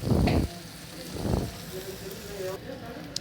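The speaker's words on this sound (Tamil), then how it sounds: "இப்போ வெங்காயம் வதங்கிடுச்சு" Onions frying in a pan for a brinjal side dish give a steady crackling sizzle, with louder stirring bursts near the start and middle, close by under a voice talking.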